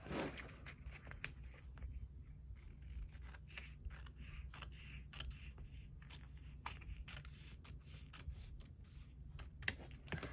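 Scissors snip across the top of a paper planner page, a series of crisp close cuts with short pauses, one sharper snap near the end, at a quiet level.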